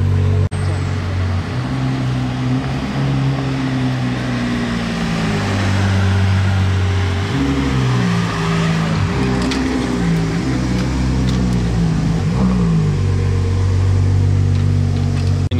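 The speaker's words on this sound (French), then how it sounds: "On s'est improvisé un rallye Ferrari." Ferrari sports cars in an impromptu rally fill the air with a loud, continuous engine drone whose pitch rises and falls as they drive on.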